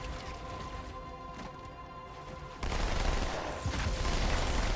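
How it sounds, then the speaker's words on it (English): Plasma weapon fire in Halo 2 crackles in a loud, continuous barrage that intensifies partway through, with dense fizzing and crashing energy-weapon noise. "That was plasma."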